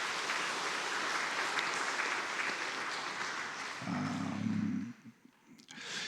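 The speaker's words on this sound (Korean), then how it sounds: "격려의 박수 한번 쳐주시기 바랍니다." A church congregation at a Sunday worship service claps together in encouragement, a dense, steady roar of many hands that carries on for several seconds before a low hum joins in and the clapping thins out toward the end.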